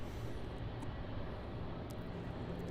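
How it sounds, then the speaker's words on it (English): A Qantas Link Boeing 717-200 airliner departing runway 34 at Melbourne Airport, a continuous loud broadband jet engine roar that holds steady throughout, heard alone. "departing off runway 34 now, we have the Qantas Link 717-200"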